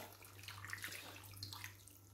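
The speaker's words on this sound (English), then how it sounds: "at this point, I'll be adding water" A steady stream of water runs and splashes into a pot of seasoned meat for stew beneath a low constant hum, fairly quiet and close.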